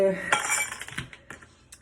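Pull tabs from juice cans clink together in a few quick, close, light metallic jingles that fade out, with brief talk at the start.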